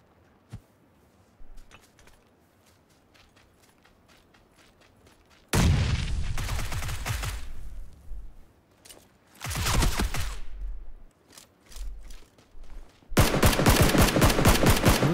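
Gunfire in the video game PUBG: sparse distant pops and single shots early on, then loud bursts of rapid automatic fire in several separate volleys, with quiet gaps between them.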